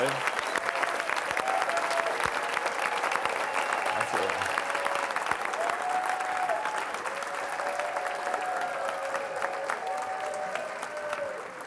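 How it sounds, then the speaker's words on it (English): An audience claps continuously for over ten seconds, an even wash of many hands that fades slightly toward the end, with voices faintly audible beneath it. "the applause and all the waving took so long"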